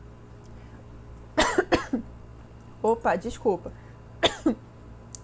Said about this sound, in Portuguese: Até chorei aqui da tosse.